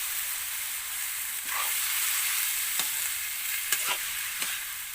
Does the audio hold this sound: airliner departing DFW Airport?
no